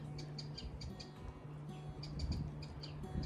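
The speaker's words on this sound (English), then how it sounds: "Nice to hear the birds chiff-chaffing." Small birds chirp and tweet in a garden, a steady scatter of short high calls at moderate distance over a soft outdoor background.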